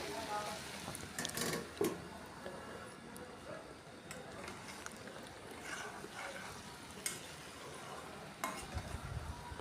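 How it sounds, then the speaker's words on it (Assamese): Assamese-style mixed vegetables (labra) stirred in a pan over high flame, the lid taken off for stirring. Faint sizzling runs under scattered scraping and clinking of utensil on metal. "মাজে মাজে ঢাকোন খুলি লৰাই দিছোঁ যাতে তলত লাগি নধৰে।"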